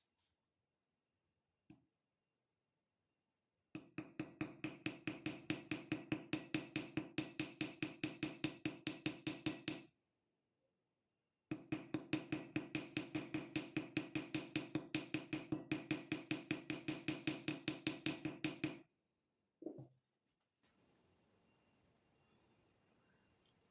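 A copper rivet is struck against metal while forming a jewellery pendant, two long bursts of rapid, even hammer taps each lasting several seconds, close and crisp, separated by a pause and followed by a couple of isolated knocks.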